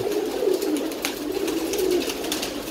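Domestic pigeons fed on desi ghee and bajra grain coo steadily at close range, a soft continuous burbling with a few sharper calls layered over it and no talking.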